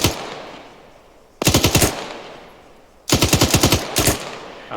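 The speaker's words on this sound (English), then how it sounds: "I still hear gunfire coming in from the southwest" Two bursts of rapid automatic gunfire in the video game Arma 3, each a loud rattling string of shots lasting about half a second, separated by quieter ambient noise with no talk.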